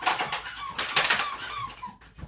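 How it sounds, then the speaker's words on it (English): A dog making a run of high, squeaky whines and yelps, close by and fairly loud, repeating in quick uneven bursts. "That's my dog."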